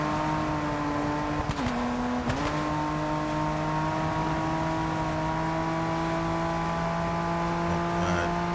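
A car engine in the racing game Test Drive Unlimited Solar Crown holds a steady drone under automatic shifting, its pitch dipping briefly twice before settling into an even, sustained hum with no talk.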